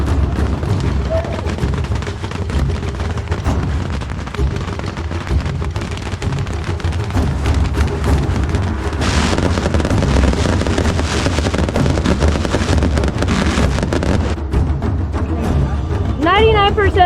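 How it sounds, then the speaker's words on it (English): Beehive fireworks at the Yanshui festival in Tainan erupt as a dense, continuous crackle of thousands of firecrackers, loud and close, with cheering and talking voices mixed throughout and rising whistles near the end. "it's like thousands of firecrackers like shooting into the crowd"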